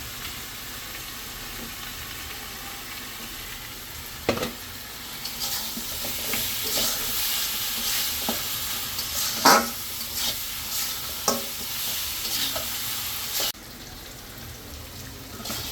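Katla fish head pieces sautéing with chili powder in a pan, a steady sizzle with occasional sharp clanks and scrapes of stirring and a brief louder burst midway.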